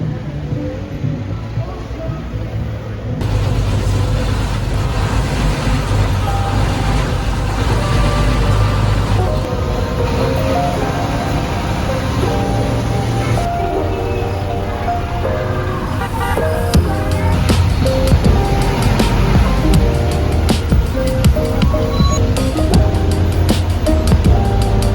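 Inside a Bangkok bus in road traffic, with a steady engine drone and road rumble beneath busy city noise and scattered clatter. Louder passages come through near the end, and music or voices mix faintly into the background.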